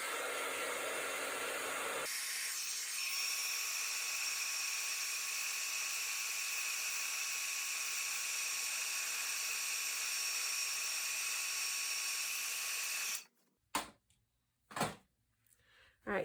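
A heat tool melts embossing powder on a card, blowing a steady, loud whirring hiss for about thirteen seconds before switching off, followed by a few short handling knocks.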